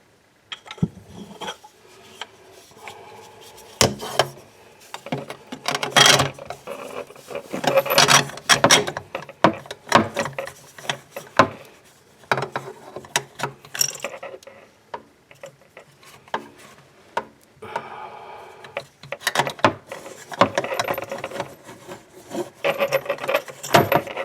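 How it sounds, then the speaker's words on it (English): A screwdriver turns a bolt to break it loose beneath a sink faucet, making a long run of close scraping, creaking and grinding noises with uneven clicks and rubbing bursts, busy and fairly loud throughout. "I'm going to put a screwdriver through that little hole right there, and I'm going to turn that bolt and break it loose."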